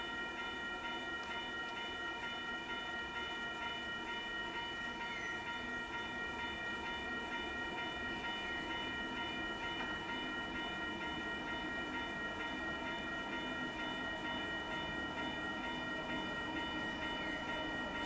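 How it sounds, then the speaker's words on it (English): A distant freight train near Wondabyne, Sydney, rumbles steadily with tonal, whistle-like hums, faint and continuous throughout with no talking. "I can hear a train coming, so I'm thinking it's a freight"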